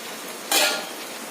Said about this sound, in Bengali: এবার এতে আমি চিংড়িগুলো দিয়ে দেবো